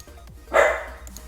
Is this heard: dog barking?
yes